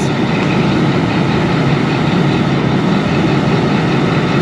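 Chinese-built CSR 2014 diesel locomotive hauling the Ravi Express on a Pakistani branch line, heard as a loud, constant low engine rumble and drone up close.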